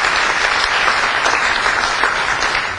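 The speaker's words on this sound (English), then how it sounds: "Let's give him a round of applause." An audience at a gathering breaks into a round of applause for an introduced guest. The clapping is dense, loud and continuous for a few seconds.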